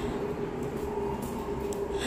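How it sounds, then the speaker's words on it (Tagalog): Low rumble and steady hum of a Madrid metro train pulling away from Chueca station, with a sustained tonal whine and faint clatter, close by and fairly steady. "Ayan yung metro. Kaso aandar na siya."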